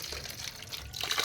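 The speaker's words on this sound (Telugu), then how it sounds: "ఈ టబ్ వాటర్లో దాన్ని కలిపేస్తున్నాను." A plant solution is stirred into a tub of water on a terrace, giving a brief, close burst of splashing and trickling.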